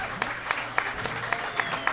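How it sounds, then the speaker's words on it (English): A live talk-show audience applauds in a dense, continuous burst with a few sharper claps poking out, filling the whole moment with little else audible. "Give her a round of applause."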